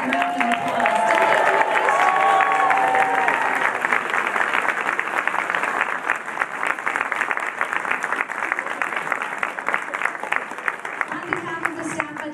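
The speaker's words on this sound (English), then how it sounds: "Let's give these cutie patooties one more big round of applause." A crowd at a seasonal children's show claps and cheers loudly and continuously, with brief voices audible early on and the applause thinning slightly toward the end.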